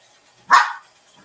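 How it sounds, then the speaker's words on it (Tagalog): One sharp, loud dog bark close by, a single burst standing alone in near silence. "Sikasuin ko lang yung aso ko. Yun, tinatawag ako eh."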